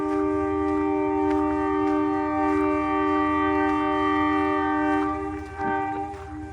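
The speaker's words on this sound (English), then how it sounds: "That siren means it's time for us to go." A Dunedin Railways departure siren on a scenic train sounds a loud, sustained harmonic tone, holding steady for several seconds before tapering off near the end, with no talking over it.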